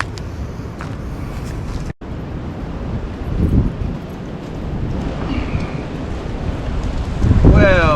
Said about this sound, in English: it's getting a little too windy for the fire